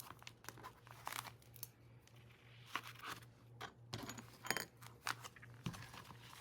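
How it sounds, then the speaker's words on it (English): Paper clips are slipped onto the tops of junk journal pages, with faint close crinkles, small metallic clicks and paper rustles in irregular bursts over a low steady hum. "now I'm going to paper clip."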